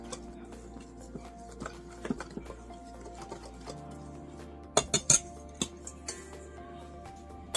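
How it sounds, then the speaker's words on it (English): A whisk clinks against a bowl while cinnamon, ginger and nutmeg are mixed, giving scattered light metallic taps and scrapes, with a few sharper clustered clinks near the middle and no talking. "I'm going to give that a whisk here so everything's incorporated"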